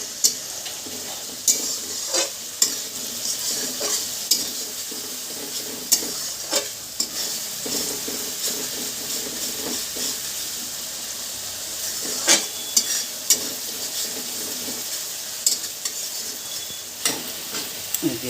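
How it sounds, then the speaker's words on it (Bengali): Turmeric, chili powder and onion paste are stirred in a pan. The spoon scrapes against the pan in sharp, irregular clacks over a constant frying sizzle and hiss, close and clear, with no voices. "দিয়ে দিয়েছি হলুদ গুঁড়া, মরিচ গুঁড়া, পেঁয়াজ বাটা দিয়ে একটু নেড়ে চেড়ে"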